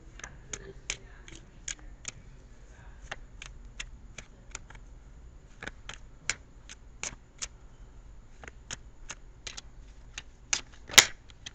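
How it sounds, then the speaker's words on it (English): Tarot cards are shuffled in quick, crisp riffles and taps, a rapid series of short snaps close to the microphone, quiet between bursts. "I'm going to shuffle for your outcome card here"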